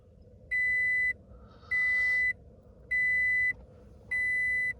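A third-generation Toyota Tacoma gives a warning chime as the ignition is switched on, with four evenly spaced, clear electronic beeps over a low steady hum. ABS, traction control and blind spot monitor faults are present.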